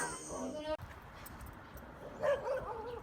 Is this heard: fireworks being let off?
no